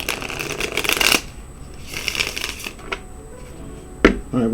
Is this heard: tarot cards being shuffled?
yes